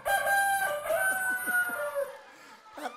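A chicken calls loudly and close by with a long, drawn-out cry, followed by a brief further squawk after a pause.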